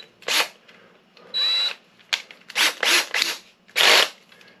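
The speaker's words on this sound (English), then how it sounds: "Then just put this in the old drill." A power drill driving a drain-cleaning attachment whirs in several short bursts, revving up and stopping repeatedly, close and loud with quiet pauses between.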